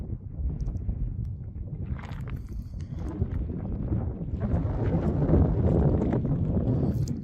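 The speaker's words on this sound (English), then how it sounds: "Hearing some of the wind just as we turn toward Windy Peak." Wind on a mountain ridge in Nevada's Rainbow Mountain Wilderness rushes and buffets against the microphone in a continuous, rumbling roar that swells slightly louder toward the end.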